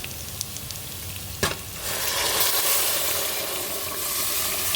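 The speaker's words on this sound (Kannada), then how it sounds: "ನಾನು ಮಾಡ್ಕೊಂಡಿರುವಂಥ ಒಂದು ಪಪ್ಪು ರಸಮ್ ಹಾಕ್ಕೊತಾ ಇದ್ದೀನಿ" Dal rasam poured into a sizzling tempering in a pan, Andhra-style pappu sambar: a sharp splash, then loud, steady frying sizzle and hiss that swells and holds close up, with no talking.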